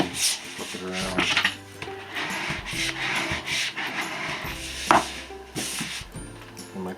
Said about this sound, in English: I'll just take the scraper and go over a couple times, flip it around.